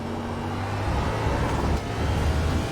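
Race car in iRacing at Circuit of the Americas, engine droning steadily and building as it accelerates, with a continuous close roar and no talking.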